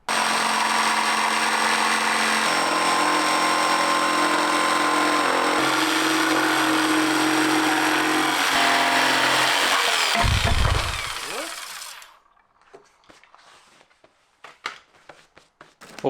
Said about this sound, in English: Drilled some holes for the jigsaw, and now we're going to start cutting into this,